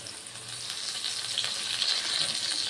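Green chili paste frying in a pan for a vegetarian potato and papaya curry, giving a steady close hiss and crackle that holds evenly throughout.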